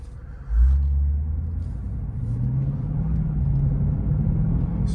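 A 2023 Lexus IS500 in eco mode drives over a very rough road, giving a steady, loud low rumble of engine and road noise that swells just after the start and then holds level throughout, with no one talking.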